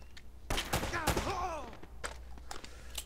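Gunfire in the video game Uncharted: Drake's Fortune, a few sharp shots and scattered distant pops that are quiet and partly buried under a voice talking.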